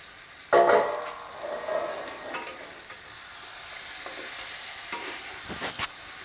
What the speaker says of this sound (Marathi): व्यवस्थित खालीवर करून एकत्र एकजीव करून घ्यायचं